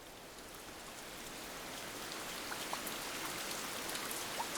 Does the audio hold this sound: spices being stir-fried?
no